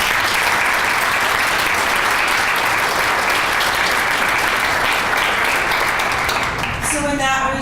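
An audience applauds loudly and steadily for several seconds, a thick continuous wash of clapping, before it fades and a voice begins to speak.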